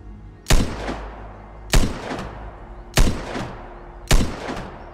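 A shotgun fired in the shooter game Vigor booms four times at a steady interval of just over a second, each blast close and loud with a short decaying tail.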